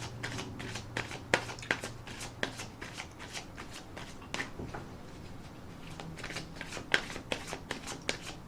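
Romance Angel oracle cards being shuffled by hand, a close series of soft riffling flutters and sharp snaps repeating irregularly, with faint low talk underneath in places.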